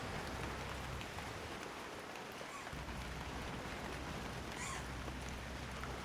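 Steady rain falls outdoors in North Sanur, Bali, a dense, even hiss that holds throughout with no voices and a faint brief chirp near the end.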